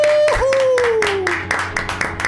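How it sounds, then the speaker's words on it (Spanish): People seated around a radio studio table break into a short burst of hand claps, mixed with a gliding electronic tone and a voice. "¡Aplauso en la mesa!"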